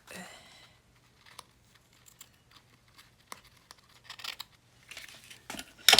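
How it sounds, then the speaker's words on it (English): Scissors trim a paper piece for a sewing-themed journal, producing scattered faint snips and crinkles that grow louder toward the end, with no voices. "Let me just trim it down a little bit."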